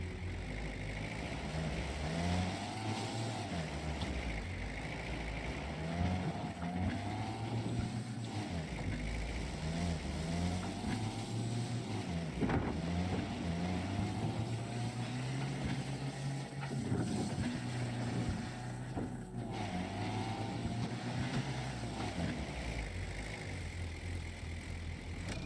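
Car engines drone continuously in the Way of the Hunter hunting game, a steady low rumble with shifting pitch as vehicles pass, moderately distant and unbroken throughout.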